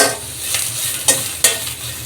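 Soya chunks frying in a pan over a medium gas flame, a continuous bright sizzle with a few sharp stirring scrapes, close and alone with no voices.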